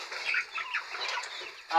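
Kuroiler chickens cluck and murmur softly close by in a brooder house, a short run of low, throaty clucks.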